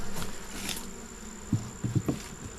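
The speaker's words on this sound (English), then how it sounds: "Seems like a nice concentration of bees." Steady high-pitched buzzing of many honey bees close by at a hive, with a few faint low thumps and taps near the end.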